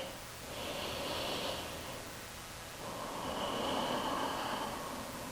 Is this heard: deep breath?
yes